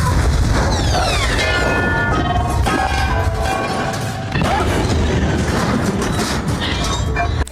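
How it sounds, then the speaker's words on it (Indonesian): A runaway train explodes in the animated film Zootopia, a dense continuous roar of crashing, rumbling debris and metallic screeches that stays loud throughout with a brief dip partway. "mereka pun melompat keluar dan kereta pun meledak"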